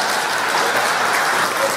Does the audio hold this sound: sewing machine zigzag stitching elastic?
no